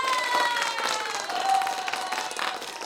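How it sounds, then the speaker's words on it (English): A played-back applause effect of a crowd clapping and cheering fills the stretch at a steady, moderate level without a break. "let me do another applause"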